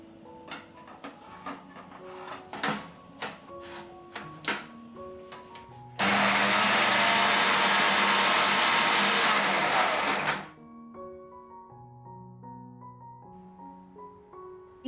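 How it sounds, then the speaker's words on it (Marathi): A kitchen mixer grinder whirs loudly for about four seconds as it grinds roasted onion, coconut, ginger and garlic into a paste, with clinks and taps of the jar before and after. "तर या मिक्सर जारमध्ये मी आलं आणि लसूणही ॲड केलं आहे."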